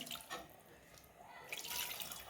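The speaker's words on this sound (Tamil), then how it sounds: "இப்போ வந்து கொஞ்சம் தண்ணி விட்டுக்கலாம்" Water pours into a pot of home-cooked biryani before it goes into a pressure cooker, a soft, close splashing and trickling stream that swells toward the end.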